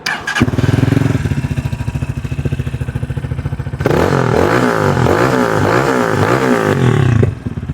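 A new 200cc fuel-injected motorcycle with a radiator and titanium exhaust starts with a cranking clatter, then idles in a steady loud thrum before revving in repeated rising surges, close and dominant.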